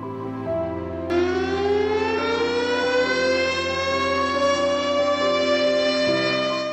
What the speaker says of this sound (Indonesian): Jika terjadi kebakaran atau bencana alam, maka tanda keadaan darurat akan berbunyi.